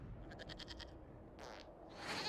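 Goat bleating in Dragon Age Inquisition, faint and distant, a quavering bleat followed by two shorter cries against a quiet ambient background.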